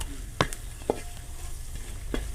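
Spices being stirred in a frying pan during cooking: a low continuous sizzle with a few sharp scrapes and knocks of the spoon against the pan, spaced irregularly.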